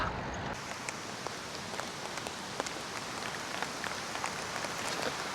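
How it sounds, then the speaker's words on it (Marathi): Steady rain falls and patters on surfaces in the Konkan, with scattered sharper drops throughout a continuous hiss. "पाऊस आला रे, पाऊस आला"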